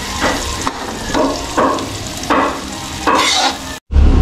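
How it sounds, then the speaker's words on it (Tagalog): Garlic and onions fry in melting butter in a pan, a close, steady sizzle broken by repeated bursts of scraping stirring, with a brief cutoff near the end before a loud low thump. "Para habang natutunaw yung mantikil natin, naluluto na yung bawang sibuyas."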